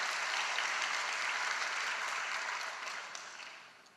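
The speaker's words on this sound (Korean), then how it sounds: "일단 박수 한번 쳐주세요" A church congregation bursts into steady applause, a dense wash of clapping that holds loud for a few seconds and then fades out as it dies down.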